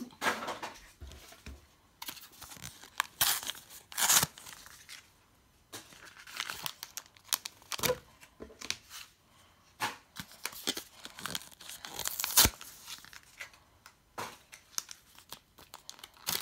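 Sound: ripping open Pokemon card booster packs

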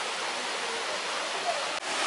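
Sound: waterfall rushing water

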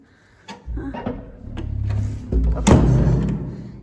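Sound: door being closed and locked with a key

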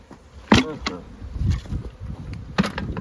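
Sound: honeybees buzzing as hive is shaken

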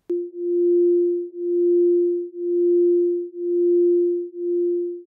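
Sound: 349 Hz and 350 Hz sine waves played together, beating

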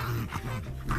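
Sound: dog barking at pizza delivery boy, from a video game

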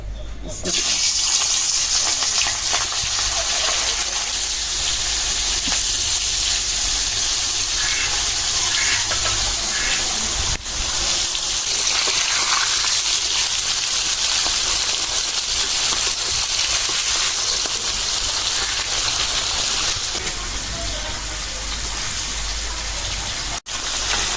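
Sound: fish frying in hot oil

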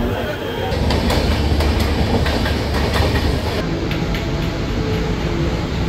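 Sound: local train ride from Mulund, Mumbai

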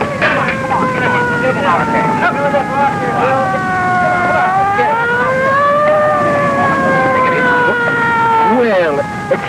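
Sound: siren wailing

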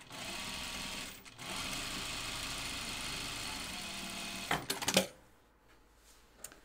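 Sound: sewing machine top stitching jeans seam

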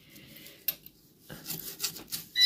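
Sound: gently scrubbing a surface clean

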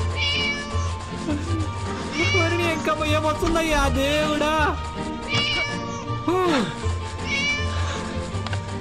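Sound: cat meowing in video game Scary Teacher 3D

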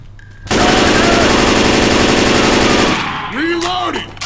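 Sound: gunfire in the video game Left 4 Dead 2

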